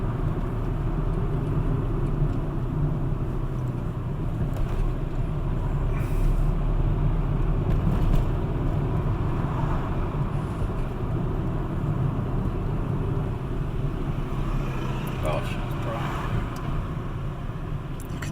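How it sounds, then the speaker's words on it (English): Night road traffic in Hanwell, London, a steady low rumble of cars with what may be buses and trucks, continuous and moderately loud, with occasional brief higher hisses like air brakes, no talk. "the traffic's certainly a little calmer in this area of London tonight"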